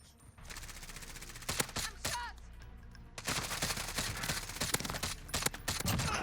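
Gunfire rattles in Call of Duty Warzone on Rebirth Island, loud automatic bursts and scattered sharp shots in a busy firefight.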